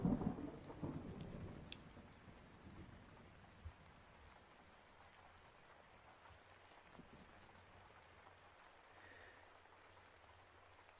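Steady rain hisses throughout, with a low rumble of thunder fading at the start and a few scattered clicks; no voices.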